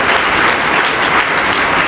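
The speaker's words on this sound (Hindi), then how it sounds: "इस बच्चे के लिए तालियां।" Steady, loud applause for a schoolchild at a school admission festival and prize-giving ceremony, dense clapping from a large crowd filling the whole moment.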